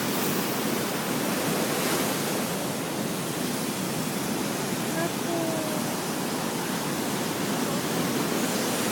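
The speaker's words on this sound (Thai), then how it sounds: "มันเป็น คลื่นสูงแบบนี้ประจำหรือเปล่า" Strong, high surf pounds at Surin Beach after morning rain, a loud, continuous roar of breaking waves filling the whole stretch.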